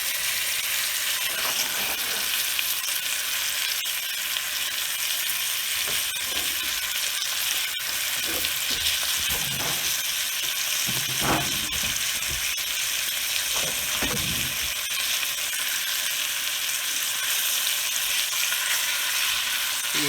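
Chicken pieces sizzle and fry steadily in a hot pan for a chicken cacciatore, a constant loud hiss with occasional bursts of spattering and stirring, no voices.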